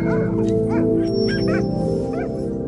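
Sled dogs in a Greenland village yip, whine and bark in a busy overlapping chorus of high whimpers and short yelps, close and steady with a low background hum.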